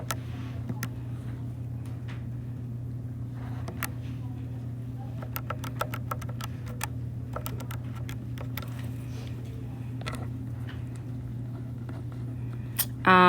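Numbers being typed into a calculator, a scattered series of faint light button clicks, some in quick runs, heard close over a steady low hum.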